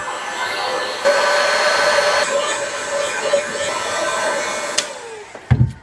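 A thick plastic pipe is heated with a steady blowing hiss ahead of flaring it. The tone is loud and continuous, then cuts off, followed by a few brief knocks.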